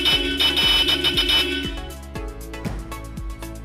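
A newly installed car horn being tested blares in a series of short, evenly spaced honks, loud and close, repeating in a rapid rhythm.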